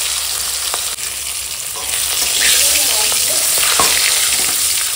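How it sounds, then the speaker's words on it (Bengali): Katla fish drops into hot oil and fries with a loud, steady sizzle that swells midway. A faint knock comes near the start and a few light scrapes follow. "তেল গরম হয়ে গেছে, মাছ ভেজে নিলাম না, মাছ চাপিয়ে দিলাম।"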